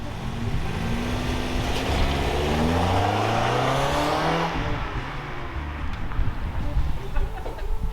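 A heavily modified car with missing inner fenders makes a gentle boost launch, its engine note sweeping upward under load for about five seconds and then easing into a rougher, fluttering rumble as it backs off.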